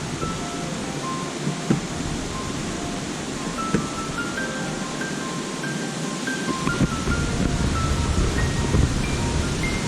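Silverthread Falls, a waterfall on a Pocono hiking trail, gives off a continuous broadband rush of falling water, steady and moderately loud, with faint chirps and scattered outdoor noises on top.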